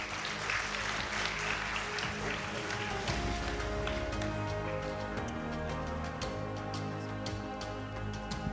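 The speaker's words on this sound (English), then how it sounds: "Round of applause for him." A conference hall audience at an awards event applauds steadily for several seconds, a dense continuous wash of many hands clapping at even loudness.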